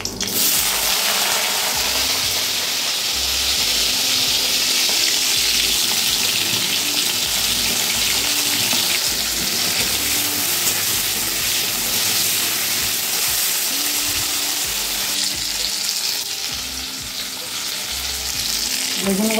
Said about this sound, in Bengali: আবার বেগুনগুলো ভেজে নেব